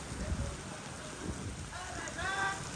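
Steady rain falls during a monsoon downpour in Gujarat, a soft continuous hiss of drops with a faint voice rising briefly near the end.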